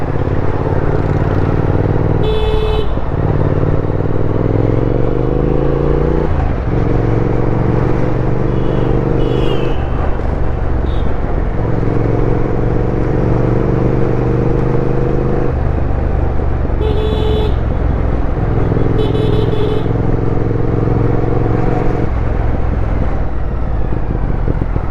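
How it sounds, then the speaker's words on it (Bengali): A Triumph Speed Twin 1200 motorcycle rides through hot city traffic, its engine droning loudly and changing pitch in steady stretches while horns toot briefly now and then. "আর আমি চালাচ্ছি 1200 সিসি ডেভিড পুত্রা বাইক।"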